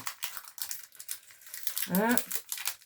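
Packaging from a shopping haul crinkles and rustles in a run of close, brittle bursts as it is opened, with a voice speaking briefly in the middle.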